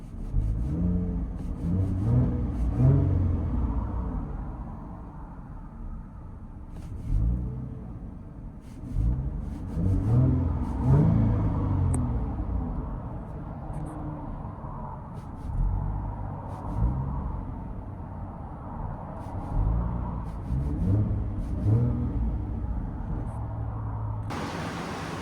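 A 2017 Jaguar F-Type S with a 3.0-liter supercharged V6, fitted with an X-pipe and resonator delete, drones and revs in a series of rising engine surges over a steady rumble, fairly close and loud, with no talking.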